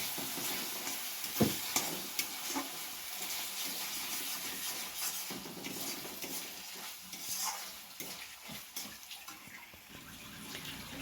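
Turmeric powder and spices being stirred in a cooking pan for ghugni, with a soft continuous sizzle and scraping strokes, moderately close, no talking.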